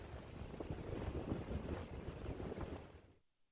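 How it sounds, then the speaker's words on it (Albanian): Strong wind buffets the microphone over a rough, churning sea at Vlorë, Albania. The roar is steady and broad with no voices, then cuts away abruptly near the end. "Era e fuqishme e cila ka përfshirë këtë të diel qytetin e Vlorës ka trazuar detin"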